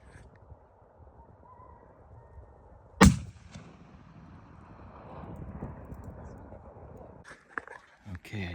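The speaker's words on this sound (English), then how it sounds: "Okay, I just shot." A single sharp rifle shot cracks out loud and close during a goat hunt in Waimea Canyon, followed by rustling movement and someone talking quietly.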